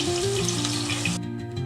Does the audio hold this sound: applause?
no